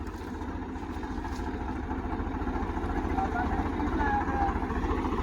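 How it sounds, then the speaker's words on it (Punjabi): A nearby tractor engine chugs with a steady low pulsing rhythm that grows louder as its tires slip, with faint whining and voices in the background. "ਦੇਖੋ ਕਿਵੇਂ ਟਾਇਰ ਸਲਿੱਪ ਕਰਦੇ ਟਰੈਕਟਰ ਦੇ"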